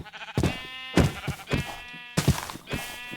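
Sheep bleating in the video game Minecraft RLcraft, with four loud wavering bleats in a row, close and clear, without talk.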